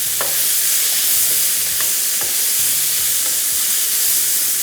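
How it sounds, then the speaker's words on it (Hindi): Chicken fries over high heat in a pan, a loud continuous sizzle with intermittent scraping stirs and clicks of the utensil against the pan, close and unbroken. "इसको तेज़ आंच पे हम लोगों ने फ्राई किया"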